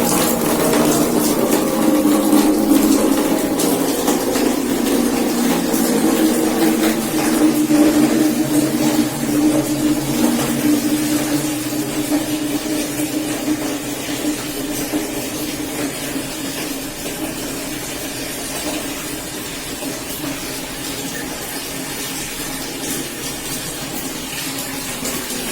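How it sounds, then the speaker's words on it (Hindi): Tap water runs steadily into a bucket in a balcony bathroom, drawn for mopping the floor; a continuous loud splashing rush that slowly eases in level over the whole stretch, with no talking. "तो पोछे के लिए लेते हैं पानी एक बाल्टी।"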